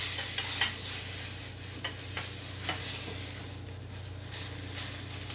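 Stuffed pork tenderloin sears in a hot pan with a steady low sizzle, broken by a few soft scraping and clinking sounds of utensils against the pan; no one speaks.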